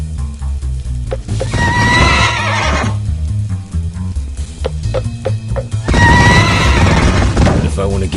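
In a video game, a demon horse neighs loudly in two shrill whinnies amid heavy clattering, booming battle effects and a steady low background score.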